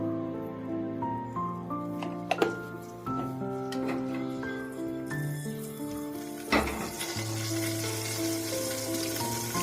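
Turmeric and chopped vegetables for aviyal sizzle in coconut oil in a pressure cooker, a steady frying hiss with occasional stirring clinks, under sustained background music.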